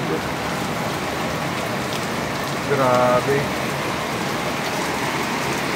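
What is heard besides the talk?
heavy rain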